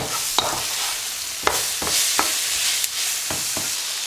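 Spices—chili powder, garam masala and garlic granules—stirred through in a pan, with a steady faint sizzle and several sharp utensil scrapes and clicks against the pan at irregular intervals, no talking.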